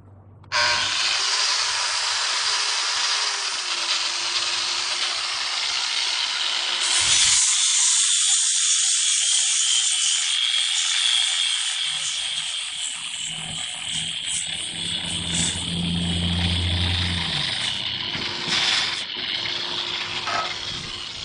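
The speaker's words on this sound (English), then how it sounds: "Start out with our 50 grit and actually smooth out the edges" A polisher with a 50 grit pad grinds along the edges of a granite countertop, a loud close whine running continuously with shifts in pitch and load as it works the stone.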